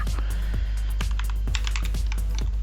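Keystrokes on a computer keyboard as a network interfaces command is typed into MikroTik RouterOS running on VMware ESXi, several quick clicks over a steady low hum.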